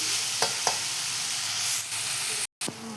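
Potato and eggplant bhaji sizzles steadily in a pan on a wood-fired stove, with a few quick scraping strokes of a spatula stirring the vegetables and a brief silent break, no talk.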